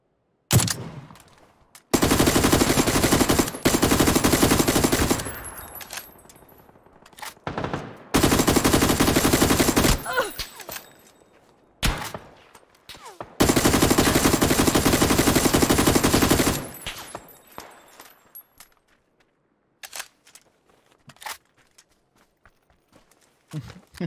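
Bursts of automatic gunfire in the video game PUBG, several long loud sustained volleys separated by quieter gaps with scattered single shots and faint background sounds, a voice talking between bursts.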